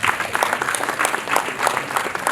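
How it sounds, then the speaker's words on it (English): Audience applause at a 2022 African Youth Day conference, a dense, steady patter of many hands clapping, fairly loud and continuous from start to end. "Please, can I put the hands together for her?"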